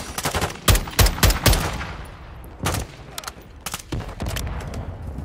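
Call of Duty Modern Warfare 2 gunfire crackles in loud, close bursts, with rapid clusters of shots and then scattered single rounds and shorter volleys.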